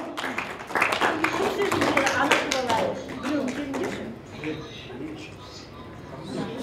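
An audience clapping at a 40-year class reunion, a burst of close, fairly loud hand claps that thins to scattered claps after a few seconds, with voices speaking underneath.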